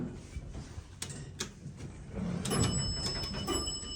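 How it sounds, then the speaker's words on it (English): The rear door of an Esco hydraulic service elevator slides open, with clicks and knocks followed by a louder rumbling slide and a mechanical whir in a quiet shaft. "Here's the rear door as well."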